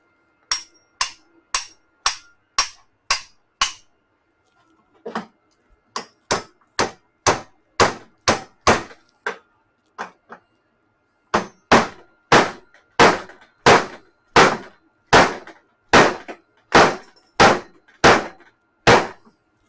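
A hammer strikes a Ford Festiva transmission part over and over to free a rusted bolt. The sharp, loud metallic blows come in steady bursts, with a short pause and then a faster run of hits.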